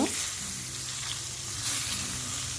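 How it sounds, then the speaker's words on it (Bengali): A steady hiss and crackle of eggplant frying in hot oil, with faint stirring sounds underneath. "আমি এই তেলেতেই বেগুনগুলোকে ভেজে নেব"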